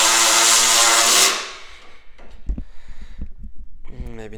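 A Milwaukee power tool whirs loudly and steadily as it runs a bolt back down, then cuts off abruptly and gives way to lighter mechanical clatter and handling sounds.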